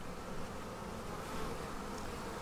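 Dense, steady hum of a crowd of honey bees buzzing inside a hive around a newly introduced found queen, close and continuous with no talking.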